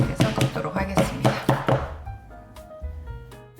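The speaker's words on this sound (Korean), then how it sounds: "오븐팬에 넣기 전에 한번 탕탕 팬째로 작업대 치셔가지고" A cake pan full of batter is banged on a work counter before baking, giving about eight quick, loud, hollow knocks in a steady rhythm that stop partway through, followed by quiet room tone.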